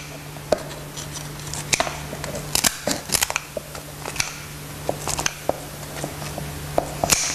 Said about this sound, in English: you simply just cut it with a pair of scissors into long strips like this